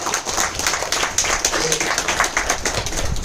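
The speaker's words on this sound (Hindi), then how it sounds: "एक बार जोरदार ताली हो जाए आप सभी लोगों के लिए।" An audience at a motivational training session claps hard and continuously, a dense close wash of hand claps with faint voices mixed in.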